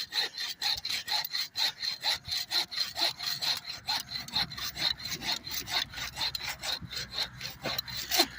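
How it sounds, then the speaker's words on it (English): A handsaw cuts a V-shaped notch into wood with steady, rhythmic back-and-forth rasping strokes, close and fairly loud, continuing throughout without any talk. "I'll have to just cut a V. I'll cut a notch out of it."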